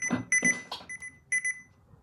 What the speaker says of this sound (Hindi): वो मेरा टाइमर कंप्लीट हो गया